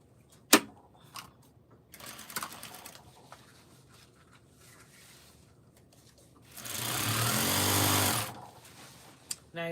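A sewing machine stitches glittery fabric in a short, loud burst of steady whirring near the end, preceded by scattered clicks and handling noises in a quiet room.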